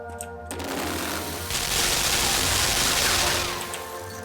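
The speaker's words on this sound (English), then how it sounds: "How are we supposed to get past the machine guns? That is the question. They seem to fire in intervals." Automated machine guns in the video game Limbo firing a loud, sustained rattling burst that swells midway and holds for several seconds before tapering, with a softer spell of fire at the start.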